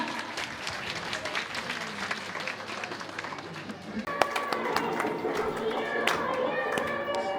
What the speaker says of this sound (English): A big clap for ma'am.